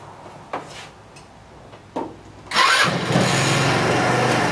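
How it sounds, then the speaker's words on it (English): Chinese scooter with a 12V battery being started: a couple of sharp clicks and clunks, then the engine catches and settles into a loud, steady, close idle. "Okay, I just turned on my scooter."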